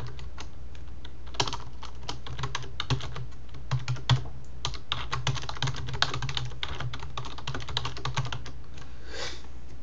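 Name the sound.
typing a Craigslist listing title on a computer keyboard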